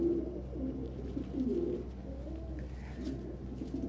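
Pigeons in a loft coo softly and repeatedly, close by and steady, with low background hum and no talking.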